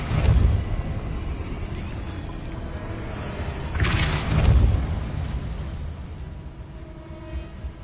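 A Depulso spell blast from a Harry Potter video game: a deep booming whoosh opening loudly, then a second louder burst midway, both trailing into a rumbling game background with no talk.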